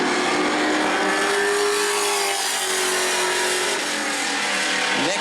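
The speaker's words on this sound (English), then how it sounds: "Next driver out to qualify will be the 52 machine for Brian Tsukub." A sportsman race car at qualifying on the New Smyrna track runs loud and steady at full throttle, engine pitch sustained and slightly falling as it passes, then rising again near the end, with no talk.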